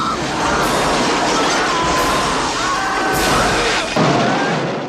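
A loud, dense explosion from the 1987 film The Lost Boys, with crashing debris, sustained noise and sharp bursts throughout, ending in a fresh impact.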